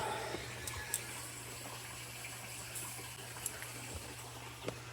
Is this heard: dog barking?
no